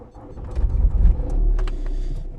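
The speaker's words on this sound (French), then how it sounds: "quand on démarre le véhicule, normalement ces deux voyants s'éteignent." An Audi A3 8P engine cranks and catches, with a low thumping turnover that settles into a steady close idle rumble; no one speaks.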